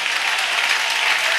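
Congregation at a French-speaking Christian worship service applauding and cheering, a dense steady wash of clapping hands filling the space without pause.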